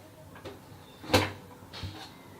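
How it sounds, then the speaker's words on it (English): A pressure cooker is opened after its weight is lifted off, giving one short metallic clank with a broadband hiss, framed by a couple of fainter softer knocks, quiet and close with no talk. "remove the weight and open the cooker"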